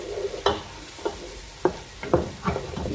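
Potatoes fry in a pan with a soft background sizzle, broken by several close scraping and tapping stirs at an irregular rhythm, with no one speaking.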